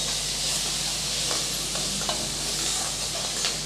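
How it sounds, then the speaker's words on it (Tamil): Tomato and vegetables sauté in a hot pan for corn rava upma, giving a steady soft sizzle with a few light scrapes of stirring. Nobody speaks. "சேர்த்து நல்லா வதக்கி விட்டுறலாம்."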